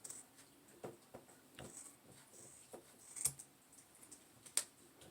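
Scissors snip through yarn loops while making a fluffy pom-pom by hand, a series of faint, irregular close-up clicks and cuts in a quiet room.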